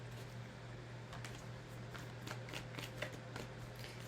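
Tarot cards are shuffled during a reading, giving a soft, continuous riffling and flicking with faint rhythmic bursts over a low steady hum, quiet and close.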